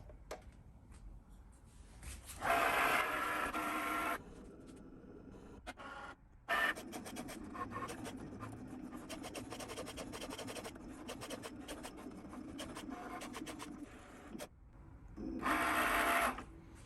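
A Cricut, Silhouette or ScanNcut cutting machine slicing an appliqué fabric piece whirs and buzzes steadily at close range, with louder bursts of carriage movement at the start and end of the cut and no talking.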